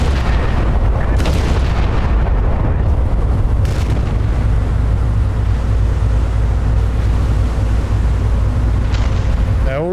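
Heavy battleship guns fire in a naval combat game, with deep booms and rumbling blasts running continuously under steady engine and sea noise, loud and dense throughout.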